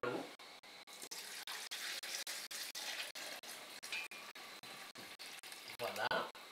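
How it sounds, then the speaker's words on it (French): Water pours steadily onto a coconut in a container, a faint continuous splashing trickle broken by brief gaps, with a voice speaking quietly alongside. "Ensuite, nous allons ajouter de l'eau."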